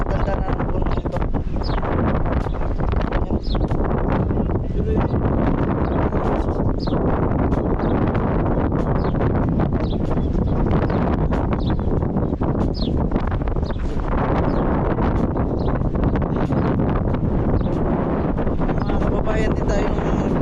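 Steady wind blowing outdoors near a 450-year-old tree, a continuous broad rushing roar buffeting the microphone throughout, with occasional faint rustles and no clear talk.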